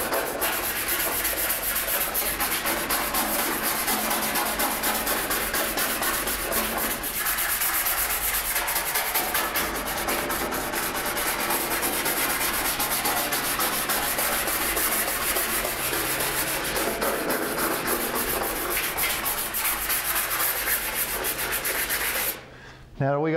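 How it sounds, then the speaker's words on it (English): Steady, close abrasive scraping as a pad roughs up bare steel body seams on a 1971 Barracuda ahead of leading, continuing for over twenty seconds before stopping abruptly. "This almost acts like sandpaper too, so you're giving a tooth for the lead to stick and just roughing up the area."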